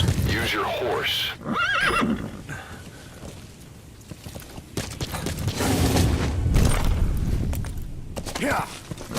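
Horse in Metal Gear Solid V whinnies in several loud bursts amid game sound effects, creaks and mechanical noises, with a voice speaking over parts of it.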